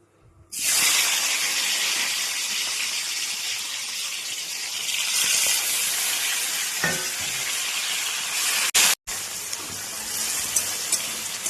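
Chopped tomatoes and three green chillies fry in a pan for lentil dal with a loud, steady broadband sizzle that starts abruptly and holds throughout, with a brief dropout near the end and a faint clink or two.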